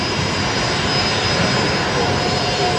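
An aircraft at Brisbane Airport, a loud continuous jet engine roar that stays steady and close for the whole stretch.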